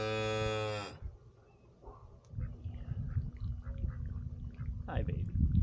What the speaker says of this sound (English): Are you mooing?